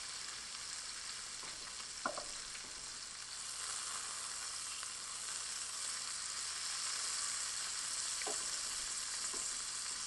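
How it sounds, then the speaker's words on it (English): Bacon fries in a pan with a steady, close hiss of sizzling grease, broken by a few sharp isolated pops. "the grease is popping a lot"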